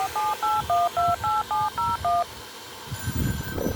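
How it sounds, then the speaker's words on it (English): A telephone redialing a number, a rapid series of about ten clear touch-tone beeps in an even rhythm, followed by faint line noise and a few soft clicks. "I've got the telephone out here, and we're going to do a redial here."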